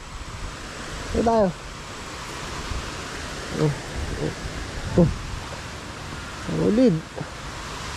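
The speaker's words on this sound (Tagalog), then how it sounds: "Ang agos ng tubig." Rushing water current at the Paglitaw natural pool, a steady broadband wash running throughout, with people talking over it near the microphone.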